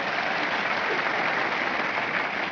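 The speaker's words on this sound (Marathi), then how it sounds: "एकदा तुम्ही तुमच्यासाठी एकदा जोरदार टाळ्या वाजवा." A women's audience at a motivational talk claps loudly and steadily throughout, a dense, even wash of applause with no pauses and no voices over it.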